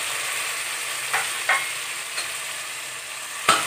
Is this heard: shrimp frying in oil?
yes